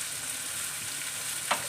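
Onions and spices fry in a pan for fish kochuri, giving a steady, fairly quiet sizzling hiss with one brief clink near the end.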